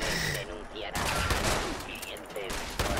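Rapid bursts of Fallout 76 gunfire crackle under excited Spanish shouting, with sharp repeated shots scattered across the clip.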